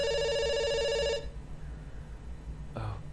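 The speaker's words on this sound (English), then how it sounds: "We'll give it the 3rd ring. Still ringing." A telephone rings in the video game Dr. Langeskov, two loud electronic ring bursts over about a second, then a low background hum with a brief faint noise near the end.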